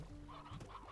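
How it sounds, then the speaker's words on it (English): Stony and regular hens in the game Slime Rancher give a few soft clucks, faint and close together, with no talk. "So we've got a good combination of both stony and regular hens in here."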